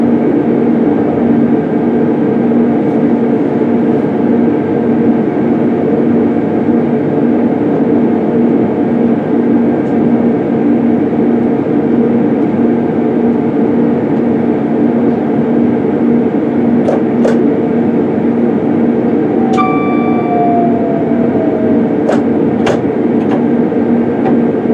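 A C2C passenger train runs along the London, Tilbury and Southend Railway through the South Essex marshes, with a constant loud rumble and hum from the cab and a few brief sharp clicks and tones near the end.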